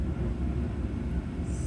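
A low, continuous rumbling hum of a heater running in a garage fills the space, steady and moderately loud, with no clear speech.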